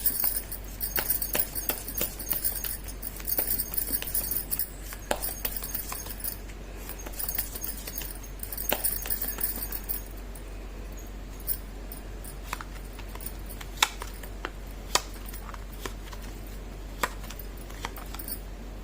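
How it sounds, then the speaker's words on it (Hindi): Tarot cards shuffled by hand, a soft steady riffling and papery rustle with scattered light clicks and taps, quiet and close, with no talking. "कर लेते हैं कार्ड की शफलिंग"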